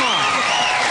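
Studio audience on The Tonight Show Starring Johnny Carson applauding and cheering, a loud, sustained clatter of many hands with whoops mixed in.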